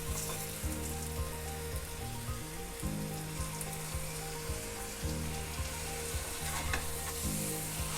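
Chicken korma frying in a pan with yogurt just added, sizzling loudly and continuously while a spoon scrapes through it in regular, repeated strokes.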